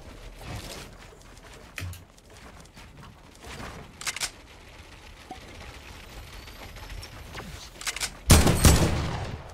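Gunfire from an AK rifle in the Fortnite video game, with several scattered shots through the stretch and a loud, sharp burst near the end over a steady game-ambience bed.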